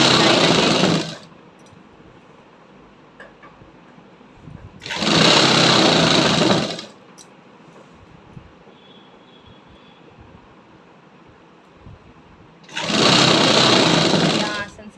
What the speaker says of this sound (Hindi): 1/2 इंच हम सलवार को और सिलाई देते जाएंगे।